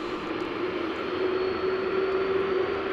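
A heavy jet airliner takes off from runway 18 right at Dallas Fort Worth International Airport, its engines giving a loud, continuous roar with a steady whine running through it and no voices.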